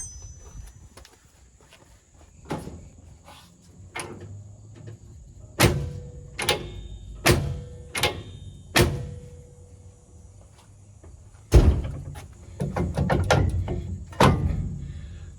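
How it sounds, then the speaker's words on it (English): Emergency brake on a 2001 Ford F-350 pushed down and released repeatedly, a series of loud close mechanical clunks and thunks spaced a second or two apart over quiet background. "I'm gonna go push the emergency brake down, release it, push the emergency brake down, release it"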